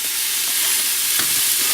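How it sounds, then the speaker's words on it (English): Mixed vegetables sautéing in a hot pan and stirred with wooden utensils, a steady bright sizzle with soft scraping strokes, close and continuous with no talking. "So I'm going to start adding my other vegetables, and I'm going to saute those for just a second as well."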